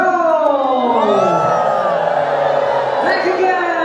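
A concert crowd at a world tour show in San Francisco screams and cheers, a dense, loud, sustained roar of voices that holds steady throughout.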